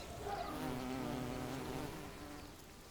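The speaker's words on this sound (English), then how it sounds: "An old wooden fence has not gone unnoticed. A wool carder bee has moved in." A wool carder bee buzzes steadily near an old wooden fence, a close, continuous drone that holds for a few seconds and fades slightly at the end, with no voices.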